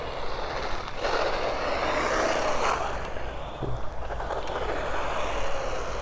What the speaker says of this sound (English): God, it's got an absolutely sound of its own, the Avante. When I brake as well.